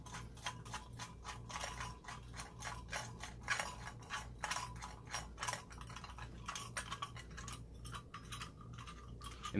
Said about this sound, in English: And then as you tighten this nut,